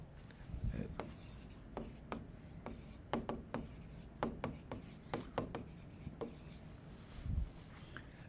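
Someone writes on a board during a Turkish language lesson, a quiet run of sharp taps and short scratching strokes in an uneven rhythm, with faint room noise around it.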